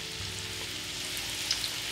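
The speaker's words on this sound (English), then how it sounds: "So now fry this into a 350 Fahrenheit oil," Samosa wraps fry in 350 Fahrenheit oil with a steady, soft sizzling hiss and faint bubbling, an even, continuous texture with no voices.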